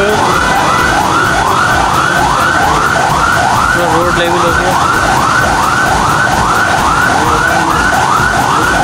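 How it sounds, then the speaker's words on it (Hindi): An ambulance siren wails loudly and continuously in a steady repeating cycle, stuck in flooded traffic on a Karachi road during rain, with engine rumble underneath and someone speaking briefly over it. "एम्बुलेंस भी फंसी हुई है। आप आवाज़ सुन सकते हैं एम्बुलेंस की।"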